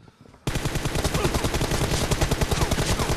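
Rapid automatic gunfire in the mobile shooter game BGMI bursts in suddenly after a brief quiet start, a dense, loud, steady rattle of shots that continues to the end.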